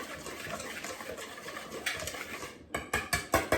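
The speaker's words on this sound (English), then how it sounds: "just get that whisk around nicely" A whisk is beaten around a bowl of dry mix for fried turkey chops, a steady scraping clatter giving way to several sharp, louder rhythmic strokes against the bowl, close and with no talking.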